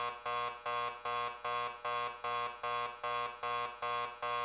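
Loud, buzzy alarm beeps from the Noir video game repeat at a fast, regular pace, with the harsh electronic tone pulsing on its own without any voices.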